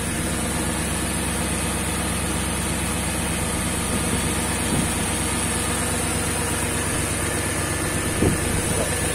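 A rebuilt BMW M62TU B44 V8 engine idles smoothly and steadily up close, a continuous low hum with a faint high whine and a couple of small knocks.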